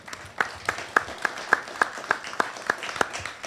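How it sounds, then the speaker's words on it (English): Audience at a film festival conversation applauds a documentary filmmaker seated among them, a steady run of distinct, fairly sparse handclaps at moderate level for several seconds. "Let's give her a round of applause."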